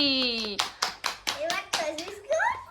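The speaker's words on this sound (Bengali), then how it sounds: "হাততালি।" A child claps by hand at home, about eight distinct claps in an uneven rhythm, close and clear. A voice speaks over the claps and a tone sounds at the start.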